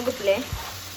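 Food frying in a pan makes a brief, soft, steady sizzle with a faint stir or scrape near the middle, heard up close and fairly quiet.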